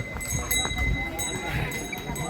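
Horses carrying riders along the Yamunotri pilgrimage path, hooves clip-clopping in an uneven walking rhythm close by, with voices talking over the steps.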